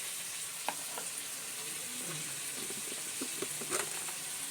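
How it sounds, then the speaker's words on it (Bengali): Fish fries lightly in a pan with a steady, soft sizzle and occasional stirring scrapes, heard close and alone. "মাছ হালকা ভাজা করছি"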